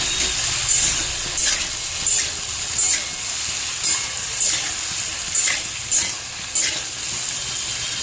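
Food fries in a pan with a continuous sizzle, with regular stirring scrapes recurring about every second; close and fairly loud, with no talking.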